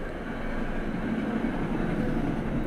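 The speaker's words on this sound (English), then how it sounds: "the train goes roaring through here" A train roars past outside an open office window in a steady, loud, low rumble that holds throughout.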